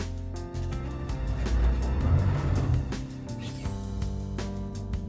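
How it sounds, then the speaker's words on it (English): An outboard boat engine idles and pushes in reverse as the boat backs off its trailer: a steady, close rumbling hum that swells midway and then settles. "So now, we've got the engine running, she's unclipped."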